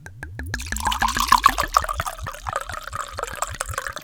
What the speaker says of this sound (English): Let me open this bottle of wine.